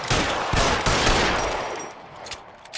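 Several gunshots in the 1940s detective game L.A. Noire, loud and near, fired in quick succession before fading into a brief quieter tail with a couple more sharp reports.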